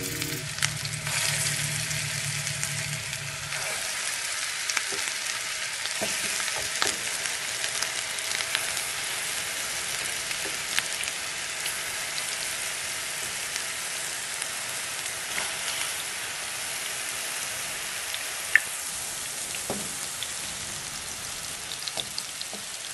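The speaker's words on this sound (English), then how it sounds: "So we have our pan ready with the oil, about 2 tablespoons, and it's ready to fry our meatball." Meatballs frying in about two tablespoons of oil in a pan over a medium-high stove, a steady bright sizzle with crackling pops running throughout, close and continuous with no talk.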